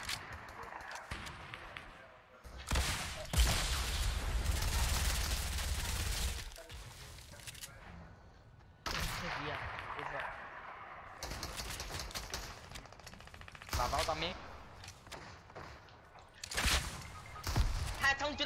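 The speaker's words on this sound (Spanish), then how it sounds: "Son tiros, me van a matar" Gunfire in the video game Fortnite comes in sharp, irregular bursts and volleys separated by quieter gaps, with players' voices talking over the action.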